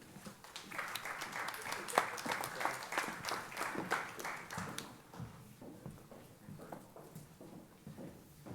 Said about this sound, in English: Let's have a round of applause for our chapter degree winners.